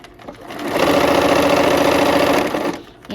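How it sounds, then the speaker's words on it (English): A sewing machine stitches a quilt with a quarter-inch seam in one steady burst of fast rhythmic whirring, close and loud, starting up and stopping within a few seconds. "we'll sew, and we're using our 1/4 inch seam for this whole quilt here"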